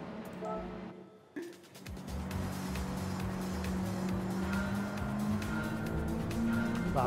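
Simulated race car in Gran Turismo 7, tuned with a changed rear gear ratio, launches from a standstill and accelerates hard, a loud continuous engine roar with rising pitch that holds steady after a brief quiet start.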